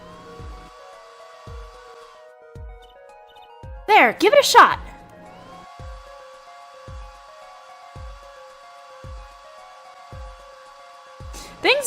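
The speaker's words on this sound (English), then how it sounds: "Dry the plaster until it turns white. Right. Just touch to direct the dryer." A hair dryer in the Apollo Justice: Ace Attorney game dries plaster with a steady blowing hum under rhythmic ticking game sounds, and a short spoken line breaks in midway.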